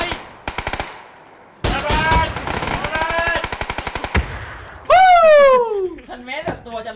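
Automatic rifle fire in the battle royale game PUBG, with rapid bursts of shots, a long stuttering volley, and a loud ringing final report that decays, all close and forceful.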